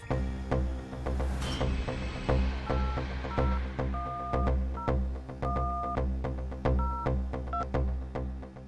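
A telephone keypad dials out for a phone call, a quick series of short, evenly spaced touch-tone beeps sounding alone over a low steady hum, with no talking.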